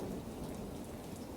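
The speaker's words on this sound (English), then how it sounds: "Currently, we are experiencing a massive storm." Heavy rain pours steadily during a massive storm with strong wind gusts, a dense, constant wash of noise with no breaks and no voices.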